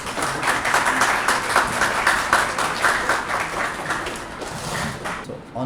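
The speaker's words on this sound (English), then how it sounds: "With your huge clap, Sir Talha Ghori," An audience at a university Global Surgery Day celebration claps steadily as a guest walks onto the stage, a broad wash of applause that holds for several seconds and thins out near the end.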